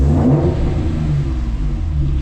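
Infiniti G37 engine revving with a deep, loud rumble close by, the pitch rising and holding steady with no talk over it.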